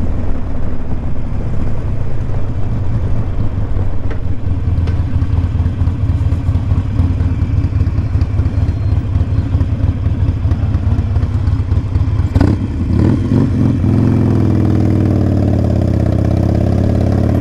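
Harley-Davidson Iron 1200 Sportster engine while riding, a loud steady close rumble with pulsing low thrum throughout, shifting briefly near the end with clatter before settling into a deeper hum.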